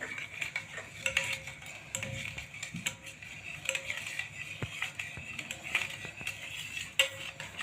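Steady scraping and clinking of a spoon stirring chaat masala and salt into a mixture in a bowl, with small scattered taps, moderately close and fairly quiet.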